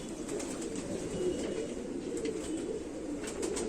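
A flown racing pigeon coos close by in a soft, continuous, low murmuring warble, with faint chirps above it and no talking.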